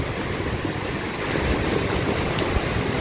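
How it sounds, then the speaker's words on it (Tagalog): Strong river floodwater surges and rushes steadily, a dense, loud, continuous broadband roar that carries large rocks along, with no voices over it. "grabe yung bugso ng tubig dun sa taas. Ang laka."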